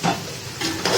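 Tomatoes and garam masala frying in a pan make a loud, close sizzle with brief bursts of stirring and scraping, no speech.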